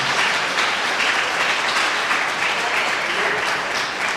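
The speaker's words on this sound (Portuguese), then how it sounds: "Aplauda ao Senhor" A church congregation applauding together, a dense, sustained wash of clapping that fills the room evenly from start to finish.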